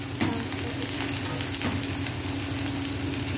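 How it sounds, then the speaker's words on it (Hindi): Mustard seeds, onion and two red chillies frying in hot oil for sambar tadka, a dense steady crackling sizzle heard close and fairly loud, with a couple of light stirring knocks, no voices. "तेल हमारा गर्म हो चुका है, अब हम इसमें डालेंगे थोड़ी सी सरसों, प्याज डालेंगे थोड़ी सी"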